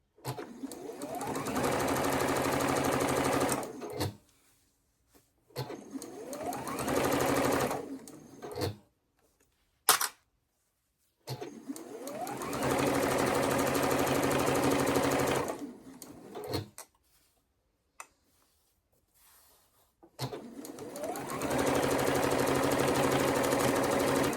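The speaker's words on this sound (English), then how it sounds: "I'm still using my 1/4 inch foot with the little guide here so I can keep my seams consistent." Sewing machine stitching quilt seams with a quarter-inch foot, a steady close mechanical whir that runs in several bursts of a few seconds each, stopping and restarting between seams, with no voices.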